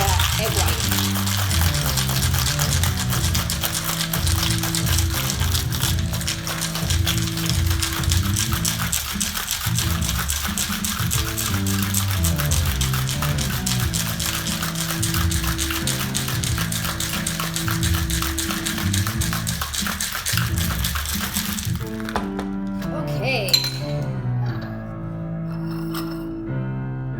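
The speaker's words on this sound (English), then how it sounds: "You want to shake for 25 seconds because you're going to break down the egg white" Pink Lady cocktail with egg white shaken hard in a cocktail shaker, a loud continuous rattling churn of ice that runs steadily for over twenty seconds, then stops, leaving a few light clinks.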